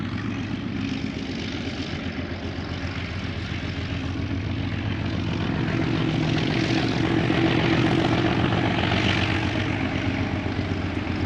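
A diesel locomotive on the Durango/Silverton line labors as it comes into town, a continuous heavy engine drone with a throbbing pulse that grows slightly louder partway through.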